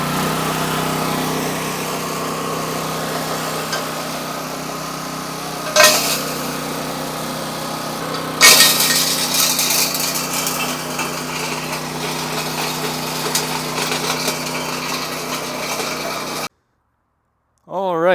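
The gasoline engine driving a rock crusher impact mill runs steadily and loudly as the throttle rises while it grinds gold ore. Two louder bursts break in as the engine revs up, then the sound cuts out abruptly near the end.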